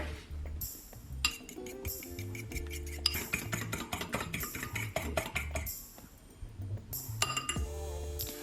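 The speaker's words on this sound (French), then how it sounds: "Je vais commencer par battre les œufs et faire une omelette." Eggs being beaten with salt, pepper and oregano for an omelette, quick rhythmic clinks of a utensil against a bowl in close, busy bursts with short pauses between them, no voices.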